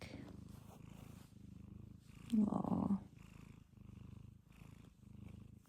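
A kitten purrs steadily through cuddling, a soft continuous rumble with a brief louder swell partway, while a person murmurs a short word over it.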